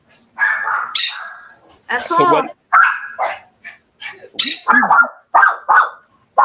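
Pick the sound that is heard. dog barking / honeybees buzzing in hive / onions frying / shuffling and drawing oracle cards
dog barking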